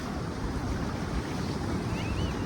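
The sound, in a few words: ocean waves at Kothapatnam beach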